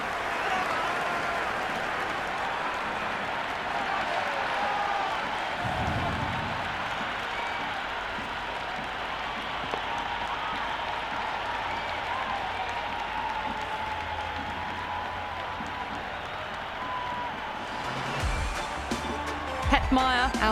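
A cricket stadium crowd applauds and cheers after a wicket falls, a dense continuous roar of clapping and voices that holds steady throughout, with a commentator's voice over it.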